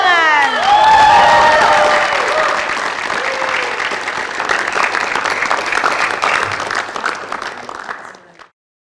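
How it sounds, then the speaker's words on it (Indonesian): A crowd applauds and cheers at a campus pageant, loud and close, with a few whoops at the start, then steady clapping that holds and cuts off abruptly near the end. "Beri tepuk tangan."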